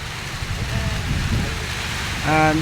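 Rain falling beside a river near a railway bridge, a steady broadband wash of drops, ending with a brief tonal horn-like sound over the rain.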